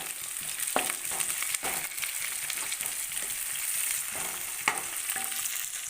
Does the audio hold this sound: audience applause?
no